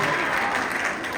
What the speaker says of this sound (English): every round of applause for Jimmy Salmon as well